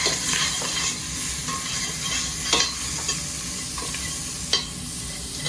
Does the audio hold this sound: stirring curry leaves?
yes